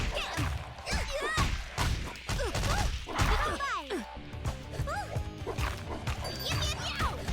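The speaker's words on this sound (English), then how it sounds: "Oh, the dog. The dog got me." A dog character in the fighting video game Them's Fightin' Herds gives several quick yips and barks amid hits, crashes and game effects, with a player talking over the action.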